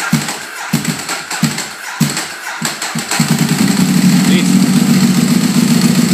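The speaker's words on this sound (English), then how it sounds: "So we'll fire the bike up here and see where we're at." A Ducati motorcycle engine cranks in several short starter bursts, then catches and settles into a steady, loud idle nearby.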